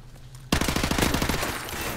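Automatic M16 rifle fire in a video game breaks out suddenly as a rapid, loud burst of evenly spaced shots, then tails off into a dense, echoing rattle.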